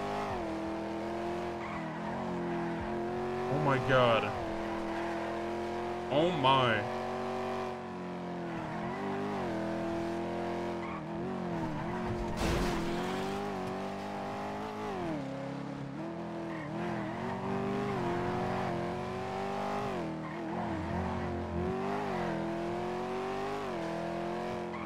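A powerful two-door S Class car in GTA NoPixel drives with a loud, continuous engine drone that rises and falls, with brief tire squeal and skid bursts; a voice briefly exclaims over it.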